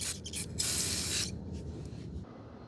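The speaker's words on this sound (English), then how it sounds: "I'm just gonna spray it with some brake cleaner." Brake cleaner sprayed onto the brake of a Honda Rebel 1100 motorcycle gives a few quick close hisses and then one longer loud burst, followed by a fainter trailing spray.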